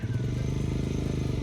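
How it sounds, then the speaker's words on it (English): A motorbike engine rumbles steadily nearby, a low pulsing drone with clattering texture that holds for the whole moment, with voices faintly audible underneath. "There's a motorbike."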